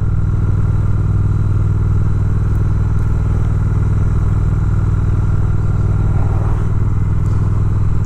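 A 2019 Triumph Speed Twin 1200cc motorcycle being ridden, its engine a loud steady drone with wind rush throughout, with no speech.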